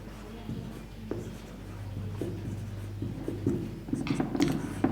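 Pen or chalk strokes on a board during a physics lesson on the astronomical telescope, a series of short scratchy marks close by with steady hum and low background noise.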